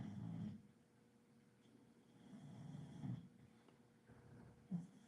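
A dog snores in slow, rough rumbling breaths, close by and fairly quiet, with a few louder snorts between softer pauses.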